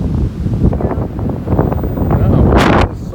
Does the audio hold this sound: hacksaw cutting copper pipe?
no